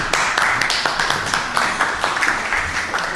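A studio audience at a dating game show applauds a departing contestant with dense, loud, continuous clapping that stays steady for several seconds and fills the room.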